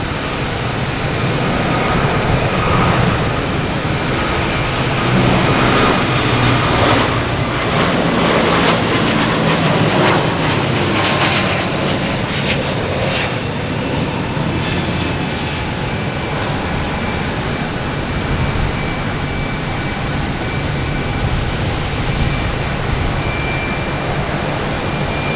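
A Delta Airbus A321neo bound for Seattle roars at Boston Logan Airport, a loud, steady jet-engine rush that holds for the full stretch without voices, with a broad whooshing texture that rises slightly near the middle.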